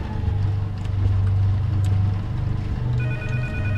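A telephone rings in a horror video game, its repeating electronic tone sounding over a low droning ambience, the rings coming in evenly spaced bursts at moderate loudness.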